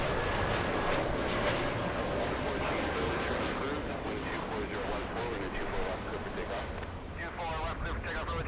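An airliner engine at LAX gives a steady, loud broadband roar throughout, while people talk over the noise.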